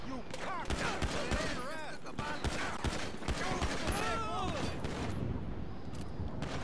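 Rapid bursts of gunfire crackle continuously through a police shootout in a role-play video game, dense and loud throughout, with a voice talking over the shots.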